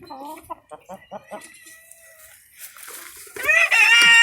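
Backyard chickens, a rooster with three hens, give a run of short clucks, then a louder rising squawk or crow near the end, close by, with someone talking over them.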